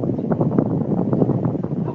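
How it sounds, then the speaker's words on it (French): Gusty wind buffeting a phone microphone outdoors, a steady broadband rumble with irregular thumps and flutters throughout, loud and close. "Je crois qu'il y a un peu de vent."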